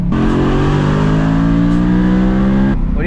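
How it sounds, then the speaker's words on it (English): A BMW E92 M3 revs hard on a downshift, its exhaust roaring loud and close in a steady, rising blast that cuts off abruptly near the end. "I just love downshift in this car."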